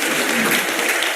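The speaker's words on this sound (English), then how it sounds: "a big round of applause for his time with us" Audience applause at a leadership summit: a dense burst of clapping from a crowd, loud and close, steady through the whole brief moment with no voices over it.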